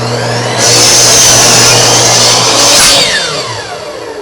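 A miter saw cuts through a wooden plank, its motor winding up into a loud, sustained whine as the blade bites, then dying away as it spins down, with no voices.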